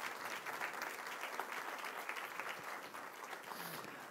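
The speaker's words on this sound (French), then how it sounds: "ils vont vous applaudir parce que vous avez fait du beau travail" Applause from a church congregation during a Sunday Mass homily, steady dense clapping throughout, moderately distant and even in level with no one speaking over it.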